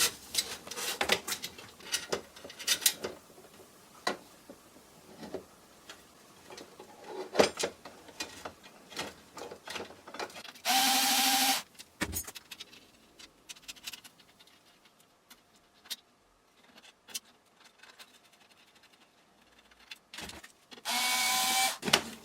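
A small screwdriver turns spoke nipples while a bicycle wheel is laced onto a new rim, making faint, scattered scrapes and ratcheting clicks with a couple of louder, longer scraping bursts.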